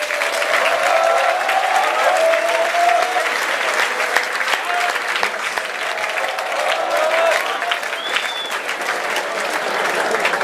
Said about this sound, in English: let's give Jesus another round of applause